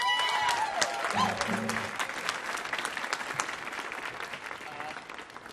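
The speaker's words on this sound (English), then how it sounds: "Let's have one more round of applause for Dead Man's Hollow." Theater audience applauding the bluegrass stage act Dead Man's Hollow, steady crowd clapping filling the hall at moderate distance, with brief voices near the start.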